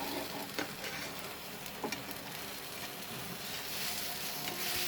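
A besan chilla, a gram flour pancake, cooks in a heated pan with a continuous close sizzle and a couple of faint soft taps.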